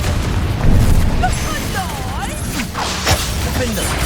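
Confringo fire spell explosions in Hogwarts Legacy, heavy booming blasts and bursts over a dense rumble of combat effects, loud and continuous, with whooshing magic swirls mixed in.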